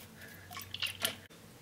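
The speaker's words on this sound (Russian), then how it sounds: "Мы сливаем с кокоса водичку." Coconut water drains out through a drilled hole in a coconut, heard as a short run of faint wet drips and splashes, close by, with no talking.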